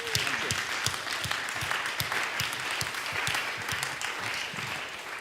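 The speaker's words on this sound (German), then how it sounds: "Ralf, gib mir doch mal einen Applaus, bitte." A studio audience applauds a guest named Ralf on a Sunday night talk show, fairly close, brisk clapping with sharp individual claps standing out in a steady rhythm.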